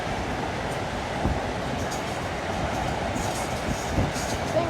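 Metro North and Amtrak trains pass side by side near Bridgeport, a loud continuous rumble of wheels on rails with faint clatter and high squealing hints, no talk.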